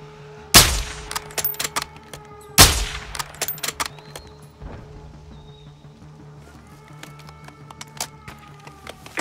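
Gunfire in the Call of Duty: Modern Warfare II (2022) campaign: two loud, sharp shots about two seconds apart, followed by scattered fainter pops, clanks and mechanical clatter without speech.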